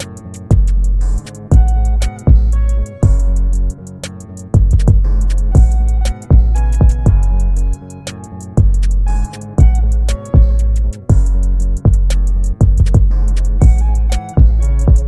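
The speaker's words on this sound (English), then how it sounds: "So this first 808 that we've got in the hook here sounds like this." Deep, dark 808 bass notes pulse under a guitar trap beat hook, long booming low tones with steady rhythmic drum hits across the loop.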